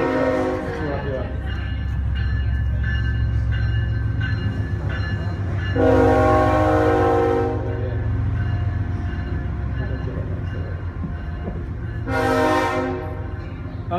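A passing train rumbles steadily in the background with two loud horn blasts, one around the middle and a shorter one near the end, under a voice speaking in a church setting.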